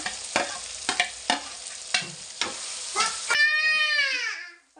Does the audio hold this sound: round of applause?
no